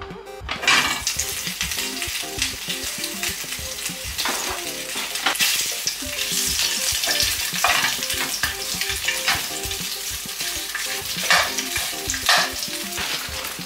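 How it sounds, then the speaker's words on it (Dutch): Steady oil sizzling and spitting as thin kebab meat fries in a pan, with occasional scraping and stirring clatter close by. "Beetje olie, even die, die ehm, dunne kebab even bakken."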